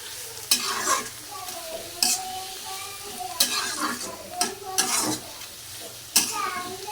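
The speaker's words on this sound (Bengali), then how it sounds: "এখন এর সাথে আমি পেঁয়াজও দিয়ে দিব। বেশি করে পেঁয়াজ দিলেই ভালো লাগবে।" Sliced onions and dried fish sizzle in oil in a pan while a spoon stirs and scrapes them in repeated sharp strokes, close and fairly loud, with a voice speaking quietly underneath.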